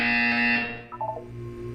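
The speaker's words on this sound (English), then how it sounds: "You will hear a buzzer." Buzzer tone from the Portal 2 video game, a steady harmonic electronic drone held loud for about a second before cutting off into a low hum with a brief synthetic blip.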